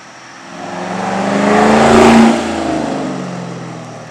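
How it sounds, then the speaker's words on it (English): A car with an MBRP axle-back exhaust roars past at high revs, its loud exhaust rising as it approaches and fading as it moves away. "We're gonna get a few flybys now to see how it sounds in the higher revs."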